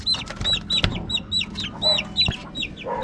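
Sweater pullet chickens cluck and chirp in a chorus of repeated, close calls with a broken rhythm, and there are a couple of sharp knocks among them.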